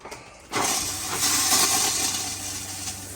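A toilet in an Arctic Fox 1150 truck camper RV flushes with a sudden loud rush of water and hiss that starts abruptly and holds steady, close to the microphone, before easing slightly.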